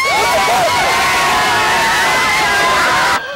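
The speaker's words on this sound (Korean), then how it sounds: "4만여 명의 시민들이 모여 대한민국과 필승 코리아를 외치며 8강 진출을 기뻐했습니다" Huge street crowd of about 40,000 citizens cheering Korea's World Cup quarter-final advance, a loud, dense roar of shouts and whoops with rising and falling chants that cuts off abruptly at the end.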